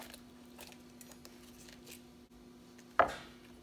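A knife chops raw cauliflower into chunks on a board, with one sharp, close cut standing out near the end after quieter handling sounds and a faint steady hum.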